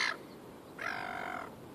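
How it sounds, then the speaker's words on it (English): A seagull calls twice at the water's edge, a short cry followed by a longer drawn-out squawk, loud and close with no talk over it. "Seagull, yeah, it's authentic."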